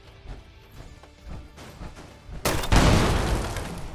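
Auto grenade launcher firing in the Fallout 76 video game, scattered soft pops building into a loud, sustained rumbling burst of explosions that fills the second half.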